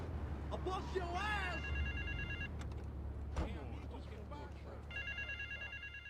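Telephone ringing inside GTA III: repeated electronic bell bursts near the start and again near the end, set over steady in-game street and engine noise while a voice talks.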